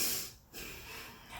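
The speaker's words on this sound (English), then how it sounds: "If you can hear yourself breathing, you're breathing too deeply." A person demonstrates deep, audible breathing as part of a stress-relief exercise: one close, breathy inhale and exhale with a hissing, snort-like rush of air, heard alone.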